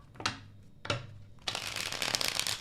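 Tarot cards being shuffled up close: two quick riffling bursts, then a longer continuous stretch of dense, papery flutter, with no voices.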